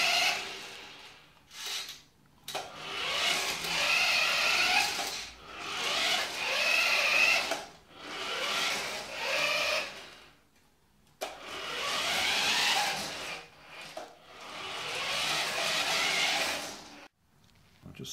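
An RC Mitsubishi Montero toy car drives forwards and backwards, its small electric motor giving repeated whining runs of a few seconds each, separated by short silent pauses.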